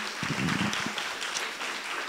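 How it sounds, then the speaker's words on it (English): An audience at an artist talk on contemporary art applauds, a full, continuous round of clapping from a room of people. A voice murmurs briefly near the start. "We can clap."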